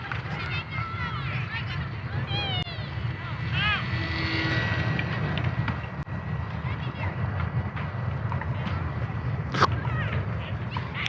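A WLToys A160 J3 Skylark Cub micro RC plane in flight, its small electric motor giving a thin, steady whine that rises and falls slightly, heard at a distance beneath outdoor wind noise.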